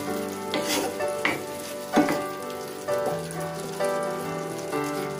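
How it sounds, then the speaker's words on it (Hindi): Pasta sauce with cream and tomato ketchup stirred in a hot pan: a steady close sizzle and bubbling with repeated scraping sweeps of a spoon against the pan, roughly one every second. "अब इसे हम अच्छी तरह से मिक्स कर लेंगे।"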